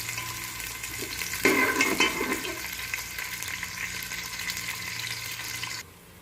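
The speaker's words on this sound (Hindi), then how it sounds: "प्याज को पहले हम लाइट गोल्डन कर लेते हैं।" Onions fry in oil in a pan for matar pulao, a steady close sizzle with a louder surge of hissing early on, then an even crackle that stops abruptly near the end.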